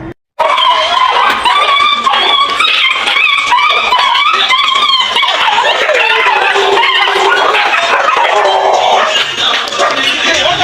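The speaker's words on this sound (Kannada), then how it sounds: "ಇದ್ರಾಗ ಅದ್ಭುತ ಫೈಟ್ ಐತಿ ನಾಯಿಗಳ್ದು" A group of village dogs fighting in Hirepadasalagi, a continuous loud tangle of snarls, yelps and barks close by, with voices mixed in throughout.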